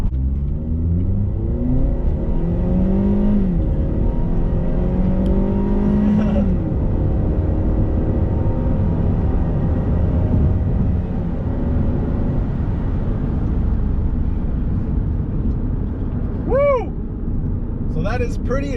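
A 2010 Ford Escape XLT with a four-cylinder engine accelerates from inside the cabin, the engine rising through gears in a loud, continuous drone with a brief voice near the end.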